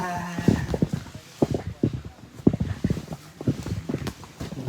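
Horse hooves clip-clop in a steady, uneven walking rhythm during a ride, fairly close, with people's voices talking over the hoofbeats throughout.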